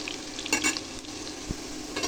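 Spice masala is stir-fried in a pan for potato curry, a quiet steady sizzle with a few soft scraping stirs and a light knock of the spoon against the pan.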